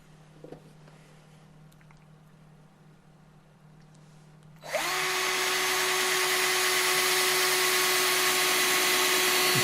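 Power drill boring into wood with a nail used as the bit while building a simple birdhouse: a quiet background hum, then the motor kicks in loud and whines steadily for several seconds.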